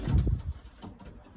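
Pigeons coo softly in their coop, Iraqi red birds kept in Europe, a few low murmuring calls close by that fade over a second or so.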